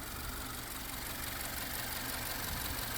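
A 2025 Subaru Forester engine, not yet warmed up, idles with a steady, even rumble, close and constant throughout, with no talking.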